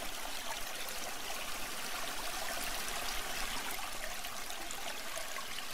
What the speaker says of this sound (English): Continue to pay attention to the sound of the flowing water